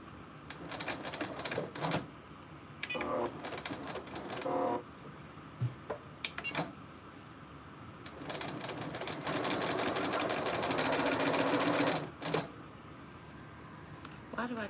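A sewing machine stitches quilt blocks in several bursts of rapid, whirring mechanical chatter, the longest a sustained run near the end, with pauses between and someone talking in the gaps.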